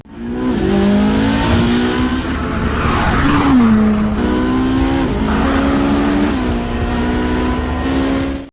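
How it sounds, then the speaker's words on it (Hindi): A red Ferrari supercar's engine roars loud and close, revving up and down in rising and falling exhaust sweeps, with a brief tire squeal partway through and the note holding strong throughout. "वो लाल कलर की चमचमाती फरारी और उसकी एग्जॉस्ट नोट तो आपको पता ही है"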